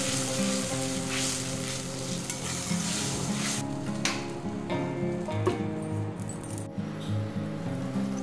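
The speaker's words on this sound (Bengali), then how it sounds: "এইভাবে মশলাটা ভালো করে ভেজে নিলে খুব ভালো টেস্ট হয়" Spice masala for a banana flower curry fries and stirs in hot oil, a steady close sizzle with scraping stirs and occasional light clinks of a utensil against the pan.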